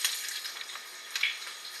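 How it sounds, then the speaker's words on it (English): Breakfast eggs fry in a pan, giving a soft, steady crackling sizzle with small pops and a brief brighter spit, quiet and close with no voices. "I've got some breakfast frying"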